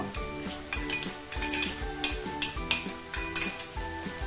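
Chopped bell peppers get stirred into pav bhaji in a pan, a metal spoon knocking and scraping against the pan in a quick, repeated rhythm, close and clattery, with a faint sizzle beneath.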